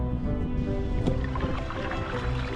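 A small boat being paddled on water, with a steady wash of water and hull noise and a brief splash-like burst partway through, close and continuous with no talk.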